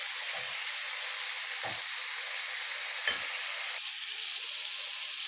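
Chicken for homemade shawarma frying in a pan gives a steady, close sizzle, broken by three soft scraping stirs and a brief sharper crackle.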